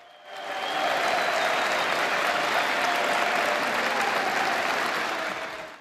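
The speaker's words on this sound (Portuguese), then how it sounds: "Muitos aplausos." Prisoners give Pope Francis a long, thick round of applause that swells in quickly and holds steady and loud from a large crowd before easing off at the very end.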